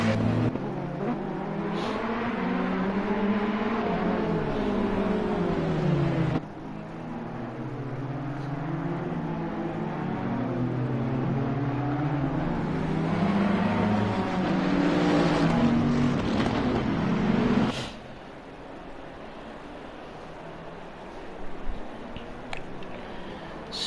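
Race cars from the Assetto Corsa Competizione game roll through a slow formation lap at Spa, several engines droning and rising and falling in pitch with gear changes, then dropping away to a quieter idle near the end.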